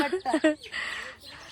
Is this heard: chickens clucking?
yes